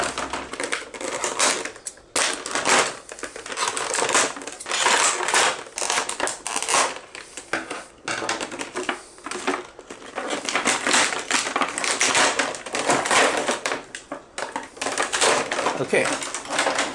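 Scissors or a blade cut through the plastic packaging of a Hasbro Black Series Darth Vader action figure, producing repeated close crinkling, snipping and crackling bursts in an irregular rhythm that continue throughout.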